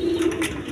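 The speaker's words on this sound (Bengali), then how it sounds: "এখানে এক পেয়ার কবুতর আছে, দেখেন" A pair of pigeons at a seller's coop gives a brief, close, low coo lasting under a second.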